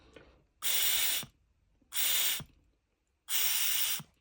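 Three evenly spaced bursts of loud, breathy hissing, each about half a second long, come as air is pushed through a hose into a PCV valve, with near silence between them.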